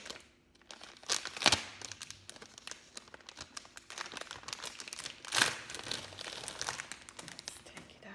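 Plastic wrapping is peeled and crinkled off a new Simplified planner, making close, quiet crackling and rustling bursts with two sharper tearing crunches.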